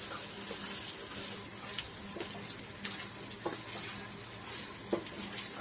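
Masala-coated fish fries in a pan with a soft, steady sizzle, broken by a few faint scrapes and clinks of stirring.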